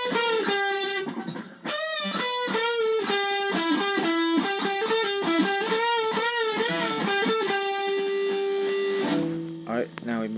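Distorted electric guitar plays a phrase from the solo, clear and loud on its own, with quick repeated notes and bends that settle into a sustained held note at the end.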